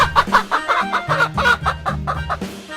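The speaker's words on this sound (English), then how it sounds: "chicken," A chicken clucks in a quick, rhythmic run of short, close calls over a soft musical backing, about a dozen bursts in under three seconds.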